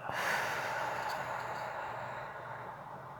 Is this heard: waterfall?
no